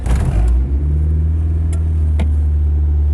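Yonaka catback exhaust on an EG Civic heard from inside the car, a steady deep engine hum and low drone at idle or cruise, close and fairly loud with no talk.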